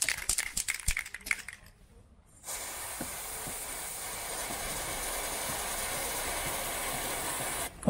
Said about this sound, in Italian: Devo far girare tutta la catena.